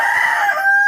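A desi rooster on a poultry farm belts out a single long, loud crow close by, holding a sustained strained note that rises at the end.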